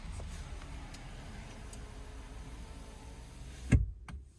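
Power window on an Infiniti G37S coupe rolling up, a steady low motor hum lasting several seconds that ends in a sharp thud as the glass seats, followed by near silence.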